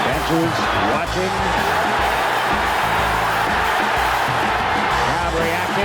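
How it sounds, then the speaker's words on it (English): Hockey arena crowd roaring during an NHL fight, a loud continuous wash of cheering and yelling with indistinct shouts, steady and dense throughout. "Crowd reacting."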